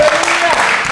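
Church congregation clapping hands during a bilingual Spanish and English service, a loud dense burst of applause filling the whole moment, with a voice speaking over it.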